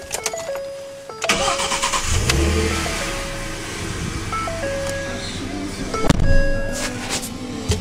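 A 2011 Ford F-150 XLT regular cab pickup cranks and fires up, settling into a rumbling idle with a brief rev, while chimes and a voice sound inside the cab.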